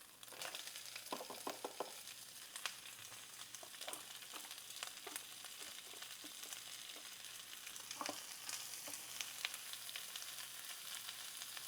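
Onions fry in rendered bacon fat in a pan, a quiet continuous sizzle with scattered pops and occasional scraping stirs, no voices.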